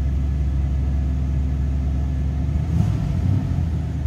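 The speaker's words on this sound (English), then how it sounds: "See how easily that 350 fires up." A 1940 Mercury convertible street rod with a 350 V8 idles close by in a steady, deep rumble that swells slightly near the end, with no talking.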